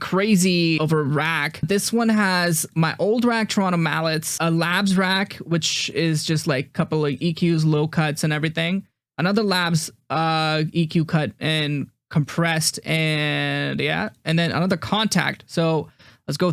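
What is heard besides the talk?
No everyday noise stands out behind the speech.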